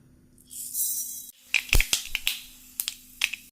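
Mustard seeds hit hot oil in a pan: a brief soft hiss, then a run of sharp, irregular pops and crackles close by, with no talking.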